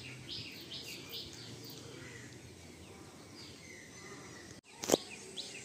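Pigeons in a loft chirp and coo faintly against a quiet background, with a short louder burst near the end.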